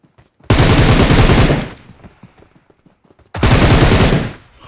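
Two loud automatic gunfire bursts in the mobile game PUBG Mobile, each a rapid rattle lasting about a second, separated by a short quiet gap with faint clicks.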